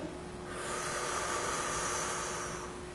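A single long, slow exhale during a meditation exercise, a close, breathy rushing hiss that swells and then tapers over a few seconds, heard alone without talk.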